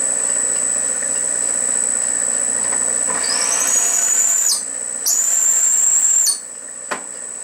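A machine drives a three-flute countersink at about 700 RPM, giving a steady high metallic whine over a running motor hum, with the tone rising as the cutter engages, breaking off, resuming, then stopping with a click.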